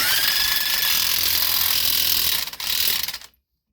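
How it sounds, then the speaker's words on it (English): A ratchet clicks in a fast, continuous run while tightening a nut on a Subaru strut, close and loud, with a brief stutter near the end before it stops. "then you can tighten the nut"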